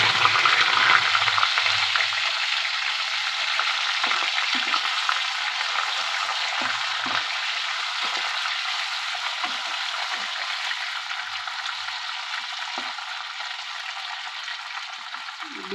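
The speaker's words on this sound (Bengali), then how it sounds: "এখন উচ্ছেটা ভেজে নেব।" Bitter gourd frying in hot oil for a Bengali shukto, a continuous bright sizzle and crackle that holds steady and fairly loud, easing slightly over time, with no talking.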